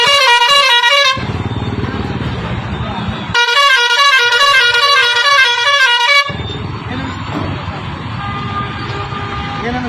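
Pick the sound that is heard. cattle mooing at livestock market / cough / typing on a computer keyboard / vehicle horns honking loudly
vehicle horns honking loudly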